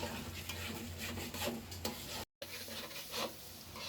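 Washed rice fries with spice paste in a pan, a soft close sizzle broken by scraping stirs, with a brief dropout midway.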